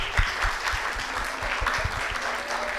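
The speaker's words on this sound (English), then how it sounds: "So let's give her a round of applause." Audience applause at a community evening program, a steady, moderately loud patter of many hands clapping that continues throughout.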